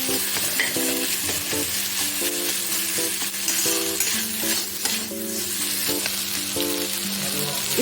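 Leftover roti batter fries in a hot pan with a steady, loud sizzle and occasional stirring scrapes throughout, while background music plays.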